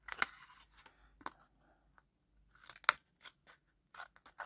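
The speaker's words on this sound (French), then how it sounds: "Avec les ciseaux, ça passe." Scissors snip through paper in a few sharp, separate cuts, now and then catching where a little glue sticks, with quiet pauses between the close crisp bursts.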